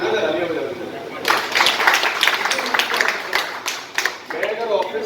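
An audience at an insurance agents' gathering at a hotel in Orai breaks into applause, a burst of dense clapping that starts suddenly, rises, then thins out, with someone speaking before and after it.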